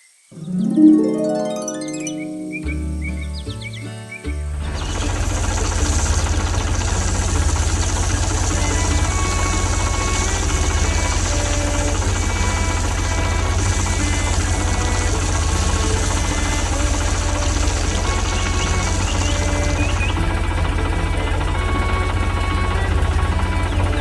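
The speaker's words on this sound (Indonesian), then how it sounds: "Traktor biru dengan tangki kuning sedang bekerja di sekitar tanaman yang tumbuh dan pagar kayu dengan kayu yang rapi." A blue tractor with a yellow tank works a field beside growing crops and a wooden fence. After a few brief tones, its engine settles into a loud, steady, close drone that lasts to the end.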